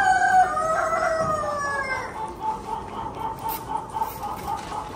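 An Australorp rooster at a competitive poultry show lets out one loud, close crow that falls in pitch, then gives way to a steady hum of background barnyard sounds.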